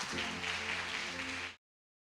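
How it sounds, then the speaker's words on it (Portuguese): A church congregation applauds in one dense, steady burst of many hands clapping. It fills the space loudly for about a second and a half, then cuts off abruptly into silence. "Você pode aplaudir o Senhor por isso?"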